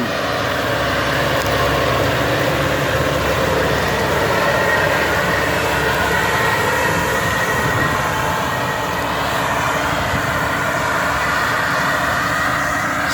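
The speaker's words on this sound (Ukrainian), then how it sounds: "Отак вона ось сіє по нулю." A Maschio Gaspardo MTR 8 planter sows corn in a no-till field, making a continuous loud mechanical rumble and clatter from the tractor and planter without pause.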